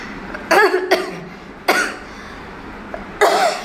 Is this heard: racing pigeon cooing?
no